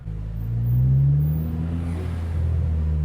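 A Honda Civic Type R GT (FK2) exhaust rumbles deeply as the engine revs up and then settles into a low, throaty drone, fairly close by.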